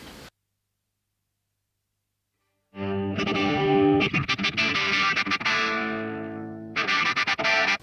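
Distorted electric guitar through the high input of an overdriven Marshall amp, loud chords and riffing starting after a brief silence, with a short pause before a final burst.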